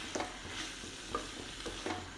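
Garlic chicken being stirred and mixed in a pan, a few soft scraping strokes over a low steady sizzle, close and fairly quiet, with no voices.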